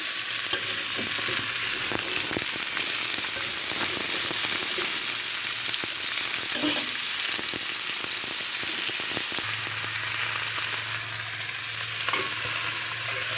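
Fish and kohlrabi fry in a pan, giving a continuous close sizzle and crackle with faint stirring scrapes and no voices over it.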